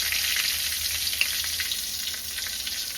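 Green chillies fry in hot oil with a continuous close crackling sizzle, punctuated by small pops and a light stirring scrape.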